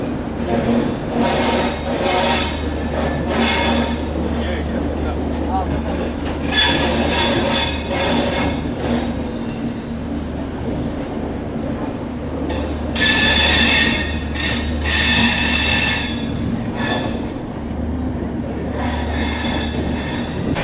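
Rameshwaram Firozpur Humsafar Express pulling out of Ajmer Junction, with sustained wheel squeal and screeching rising and falling over a steady rolling rumble, loud and close from on board.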